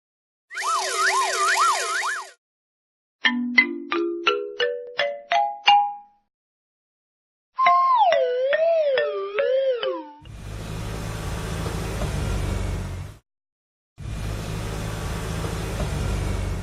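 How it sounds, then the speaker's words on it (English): A cartoon-style ambulance siren wails with a wavering, rising-and-falling tone for a couple of seconds, set among other bright sound effects: a chiming tone, a run of climbing plucked notes and two loud bursts of rushing noise. "Ambulance."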